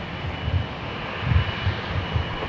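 A jet airliner roars on the north runway at LAX during takeoffs and landings, a steady, loud, low rumble that swells slightly in places, with no voices.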